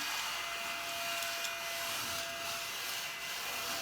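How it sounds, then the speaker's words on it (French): A vacuum cleaner runs close by with a steady whining drone and a constant high tone, sucking up crumbs indoors, with faint rubbing and brushing scrapes over the motor. "Donc ça marche très bien, ça aspire même les miettes."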